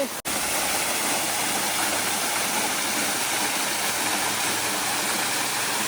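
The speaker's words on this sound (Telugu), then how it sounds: "అది చూడండి పైనుంచి వాటర్ అయితే కింద దిగుతుంది" A waterfall near Cherrapunji in Meghalaya pours water down from above, making a loud, steady, close roar of rushing water that runs unbroken after a brief click at the start.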